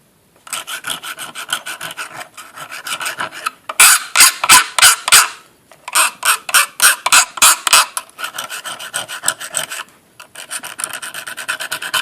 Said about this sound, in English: Now we need to file this.